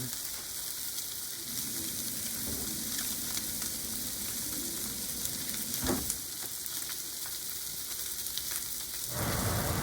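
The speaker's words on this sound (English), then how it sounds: "here's just some little sizzle action" Blackened salmon sizzles steadily in a hot pan, a dense close hiss with soft crackles and one sharper pop midway, carrying on without any talk.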